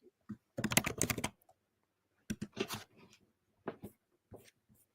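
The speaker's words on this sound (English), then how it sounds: "I was typing." Keys rattle on a computer keyboard in short irregular bursts: a dense flurry, then a few scattered clicks and brief taps, close and fairly quiet with pauses of near silence between.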